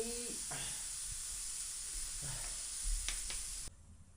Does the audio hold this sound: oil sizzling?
yes